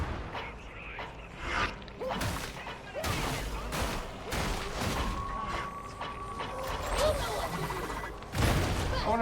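A burster enemy blows itself up during a chaotic firefight in Warhammer 40K: Darktide. Several sharp, booming blasts cut through a dense clatter of gunfire and mechanical noise, with the last burst landing loud near the end.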